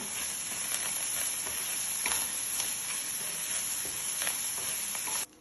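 Onion fries in a pan for kofta sauce with a steady, close sizzle and faint crackles throughout, stopping abruptly at the end.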